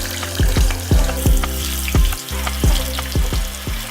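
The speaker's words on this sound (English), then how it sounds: "Now let's fry the tofu when the oil is already hot." Tofu fries in hot oil with a loud, steady sizzle and crackle, close up, broken by a few sharp pops and spatters.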